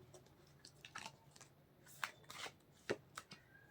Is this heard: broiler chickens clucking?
no